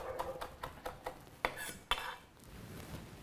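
A knife chops tomato and basil for a pesto, giving a string of sharp, close clicks and taps at an uneven pace, with two louder strikes standing out in the middle before the cutting stops.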